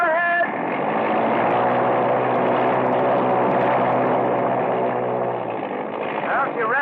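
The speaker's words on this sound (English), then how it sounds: "Well, she revs up okay, Jim." An old radio-drama sound effect of an aircraft engine revving up, a loud steady propeller-like drone that holds throughout and eases off near the end, with voices talking over it.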